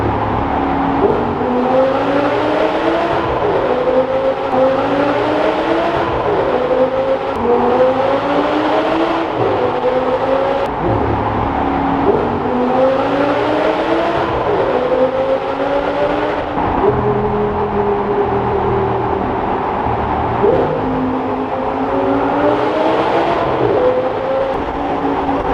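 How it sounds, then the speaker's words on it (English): Audi R8 GT V10, one of 333 built, fitted with a Milltek race exhaust, accelerating hard through a tunnel; a loud, continuous engine roar with repeated rising rev sweeps and gear changes echoing off the tunnel walls, with no talking. "A Milltek exhaust attached to it, and it makes a proper sound."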